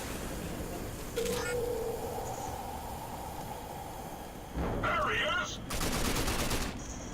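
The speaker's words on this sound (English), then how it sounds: "you didn't hear me shoot your other guys?" Gunfire in the video game RAGE: a few short bursts of shots, loud and close, separated by quieter stretches of game ambience.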